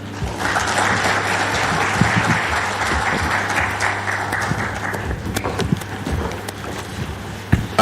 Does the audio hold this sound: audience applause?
yes